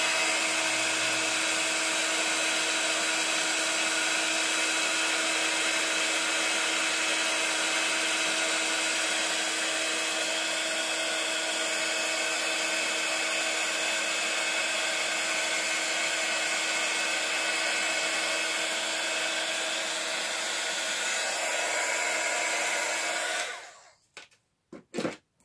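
A heat tool blows hot air steadily to set embossing powder on masking magic stencil material for a Christmas card, a continuous loud whirring hum with a whine that runs unbroken for over twenty seconds before cutting off abruptly.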